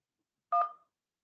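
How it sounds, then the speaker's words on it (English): A single short telephone keypad tone from pressing 1 during an automated hotel-booking phone call, clear and alone against silence. "If you want to get SMS confirmation, please press 1."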